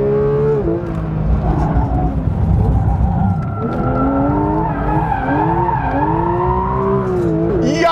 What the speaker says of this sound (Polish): Jak on jeździ slajdami!